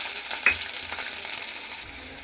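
Onion pieces with green chilli frying in oil in a pan, a steady soft sizzle with light stirring scrapes, close and alone with no talk.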